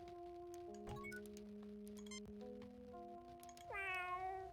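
Longhair domestic cat in Star Trek Judgement Rites giving a single rising meow near the end, loud and close over a sustained synth music bed with scattered chimes and clinks.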